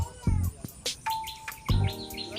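Pigeons in a loft give soft cooing and short calls in scattered bursts, close by, with a few sharper chirps mixed between quieter gaps.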